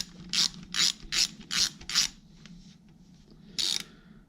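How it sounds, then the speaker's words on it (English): A ratchet wrench clicks in five quick, crisp bursts, then one more after a pause, as a bolt is removed from a Yamaha Vmax motorcycle clutch slave cylinder, close and clear with no talking. "So when I take this bolt out here,"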